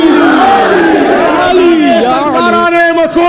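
A leader shouts religious slogans at a gathering and a crowd answers in a loud, drawn-out chant of many voices in unison.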